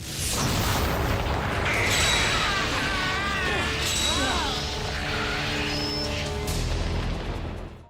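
A bolt of light cuts through the sky and blasts apart a raging data storm in the Yu-Gi-Oh! VRAINS anime, a loud, sustained crash-and-boom with swooping whooshing tones that stays dense for the whole stretch.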